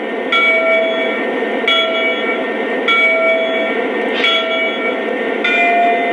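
A Lionel Santa Fe GP7 model train locomotive plays its default bell tone in a steady repeating rhythm, five clear metallic clangs with a lingering ringing tone between strikes, close and loud.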